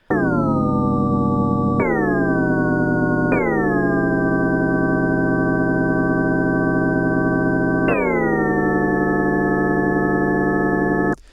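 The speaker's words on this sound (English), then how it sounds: "these 3 oscillators are going to gradually pitch up to about 17, 18-ish semitones upwards from their starting original pitch" Sci-fi power-up synth patch built in Massive with three oscillators, played as sustained held notes that sweep upward in pitch by well over an octave. It restarts several times, loud and steady, with no voices.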